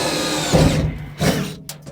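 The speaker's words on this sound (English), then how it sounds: "I'm just picking a spot that's like a good place to drill through the dry dock." A power drill bores through the dry dock of an HDT while storage boxes are installed, two bursts of loud mechanical whirring close by, with a brief clunk between them.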